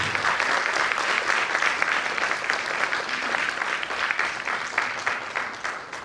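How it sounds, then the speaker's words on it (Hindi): An audience at a Hindi-language gathering applauds steadily and fairly loudly for about six seconds, a dense crowd clapping that holds even before easing slightly at the end, with no talk over it. "तालियां हो जाइए सभी के लिए।"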